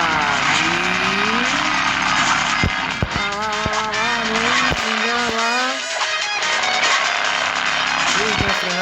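Engine of a jumping car in the Hill Climb Racing 2 mobile game revs and whines continuously with rising and falling pitch, punctuated by sharp thumps of landings and game music, as someone talks over it.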